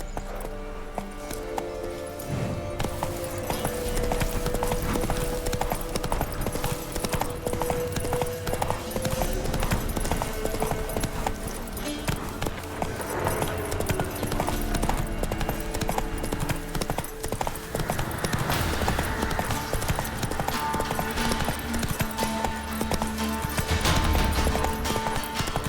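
Horse hooves gallop in The Witcher 3, a fast, steady clip-clop rhythm that runs throughout over game ambience, with brief voice and a whinny-like sound mixed in.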